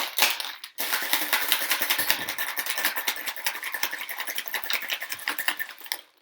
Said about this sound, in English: Shake over ice.